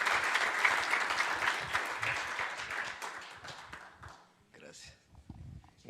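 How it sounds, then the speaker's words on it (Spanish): Audience clapping welcomes a guest at a church gathering, dense at first then thinning out and fading into scattered claps and room noise by the end. "vamos a recibirle con un buen aplauso, un fuerte aplauso al doctor Ender Vargas"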